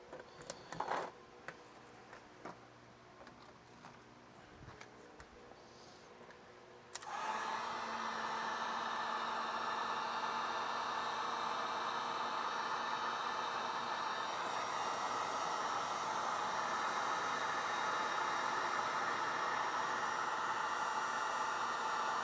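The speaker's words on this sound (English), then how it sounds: "we're gonna heat shrink this thing up" A heat gun shrinks tubing onto an electrical adapter. Faint clicks and handling noises come first, then at about seven seconds the gun switches on with a steady, close, rushing blow that lasts to the end.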